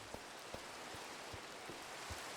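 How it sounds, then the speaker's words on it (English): Rain falling in the Minecraft video game, a soft steady hiss with scattered faint droplet ticks, quiet and continuous with no voices. "And of course it's raining."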